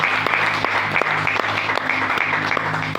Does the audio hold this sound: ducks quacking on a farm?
no